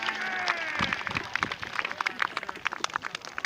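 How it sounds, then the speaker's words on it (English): An outdoor audience claps through a Roman cavalry lance-riding display, a steady patter of applause with a voice speaking over it at the start. "give them a round of applause"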